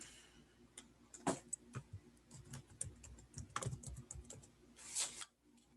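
Someone types on a computer keyboard in short bursts of quick, uneven key clicks, close but quiet, with brief pauses between the bursts.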